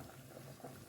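Water boils in a pot for poaching tomatoes, a faint, continuous bubbling and burbling heard alone for about a second.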